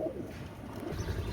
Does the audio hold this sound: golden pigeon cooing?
yes